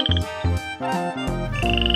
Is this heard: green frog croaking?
yes